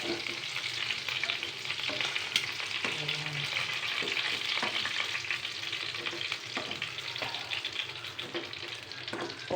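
Onions and ginger sautéing in a pan, a continuous close sizzle and crackle with occasional utensil scrapes and stirring noises throughout, with no voices.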